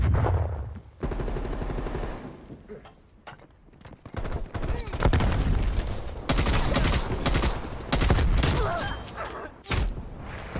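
Sniper gunfire in a video game, with sharp loud shots and bursts of firing scattered across the stretch amid busy game noise, while a voice talks at times.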